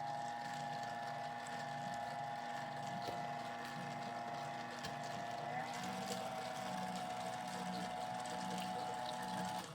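A mixer runs at slow speed, folding chocolate chips into homemade ice cream, giving a steady, close motor whine with a slight pitch shift partway through.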